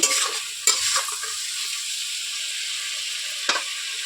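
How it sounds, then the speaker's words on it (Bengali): Rohu fish frying in a pan for a curry with ridge gourd and potato, giving a steady, bright sizzle throughout, broken by a few sharp stirring clatters near the start and one near the end, with no voices. "ভালোভাবে ভেজে নেব।"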